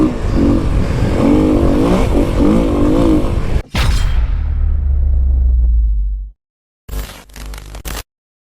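Kawasaki KLX300 dirt bike at high speed in open desert, a loud close engine drone with wind buffeting, a brief drop, then fading to silence before short bursts of clattering noise.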